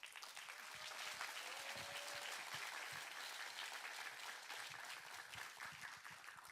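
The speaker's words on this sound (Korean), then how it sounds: "큰 박수로 우리 남 목사님 모시도록 하겠습니다" Church assembly audience claps to welcome a pastor to the stage, a fairly distant, continuous patter of many hands at steady level, with individual claps poking through the even wash.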